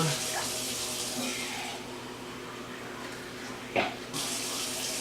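Water runs steadily from a tap in a broadband rush, with a brief clink of dishware near the end.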